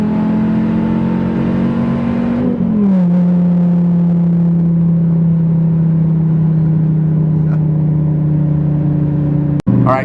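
A car making about 610 horsepower at the wheels on exhaust and tune alone roars loudly through a naturally aspirated dyno pull, holding a steady high drone after an early pitch shift and ending in a sharp snap.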